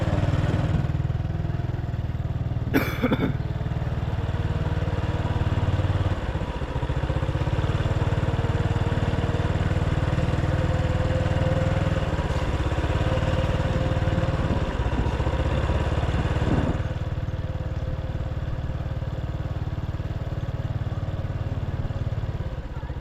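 A motorcycle ridden through Ban Fai in Xaysetha district, Vientiane, its engine droning low and steady throughout with wind rush, a brief clatter early and again later, and no voices.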